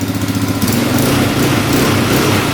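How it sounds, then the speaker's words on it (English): A quad ATV engine runs rough and uneven close by, a loud continuous idle with a lumpy, sputtering pulse and no pauses. "Start this thing up. See, it runs horrible. It's running really bad."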